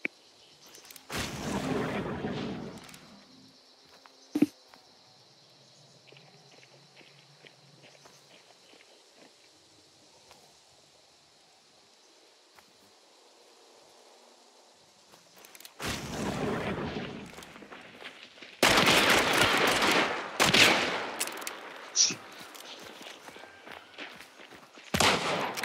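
Hip-fire gunshots in a multiplayer shooter, loud dense bursts of firing near the end after a quieter stretch of footsteps and ambient hum, with a short sharp shot early on.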